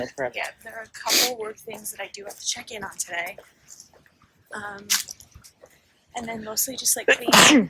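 A single sharp sneeze near the end comes amid a relaxed conversation between two people at home in a New York City apartment.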